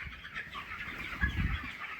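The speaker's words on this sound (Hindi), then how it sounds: "मुर्गे बड़े उतावले हो जाते हैं" Poultry-farm chickens cluck faintly amid ambient barn noise, with a brief louder flurry of activity and scuffling near the middle of the two seconds.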